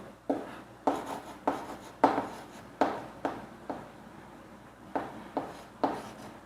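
Pen strokes mark a price by hand on paper, making a quick series of about a dozen scratchy, rhythmic scribbles close to the listener.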